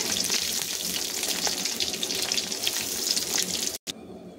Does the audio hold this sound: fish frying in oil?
yes